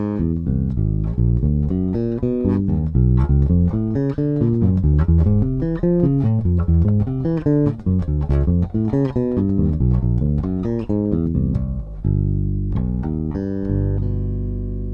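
Bass guitar running augmented arpeggios through the half-step whole-step diminished scale, a continuous stream of quick, bright plucked notes climbing and falling for about fifteen seconds, loud and alone with no talking.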